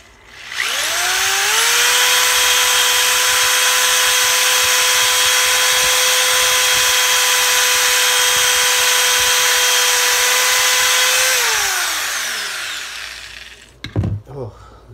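An electric drill spins up and bores into a DC-15A blaster rifle prop, a loud close steady whine lasting about ten seconds before winding down, followed by brief clatter.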